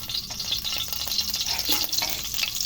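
Garlic, onion and seasonings fry in hot oil for a chicken curry, giving a steady, close, crackling sizzle with stirring throughout and no talk.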